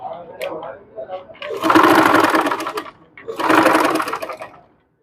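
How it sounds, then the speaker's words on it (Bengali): Two loud sustained runs of a sewing machine stitching the folded side of a neck design on a garment, with a voice talking briefly at the start. "এখন আমরা কি করব, সাইড দিয়ে এরকম করে মুড়িয়ে মুড়িয়ে এটাকে এই পর্যন্ত আমরা সেলাই করে নিব।"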